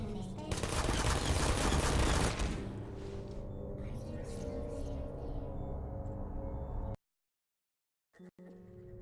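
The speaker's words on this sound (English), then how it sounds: "let's just die to the turrets now, shall we?" Automated turrets in the video game Portal open fire in a loud, dense burst of rapid gunfire that tapers into a rattling hail, then cuts out abruptly to silence before a few faint clicks.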